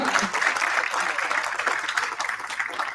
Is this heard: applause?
yes